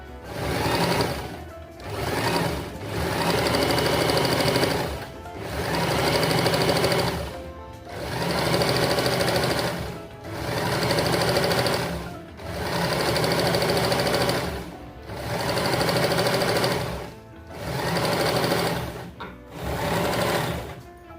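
A sewing machine runs loud and close as it stitches a sleeve, in long buzzing runs of several seconds each, broken by short pauses between passes.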